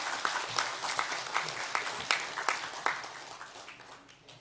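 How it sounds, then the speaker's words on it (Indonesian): A room of attendees applauds at a regency council plenary session marking Sumedang's 446th anniversary, a steady dense patter of many hands heard at a distance, fairly soft and fading toward the end. "tepuk tangannya juga yang bolehlah yang lebih meriah lagi"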